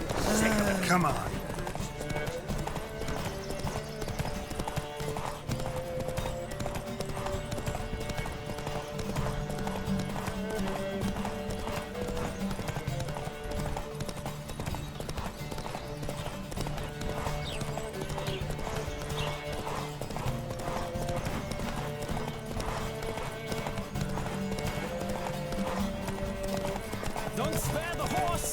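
Horse hooves gallop in a steady, rapid clip-clop throughout The Witcher 3, with occasional whinnies, set against continuous game music and voices.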